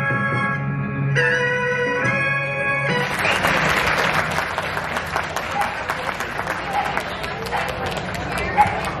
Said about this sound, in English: Clap, clap, clap, clap, clap.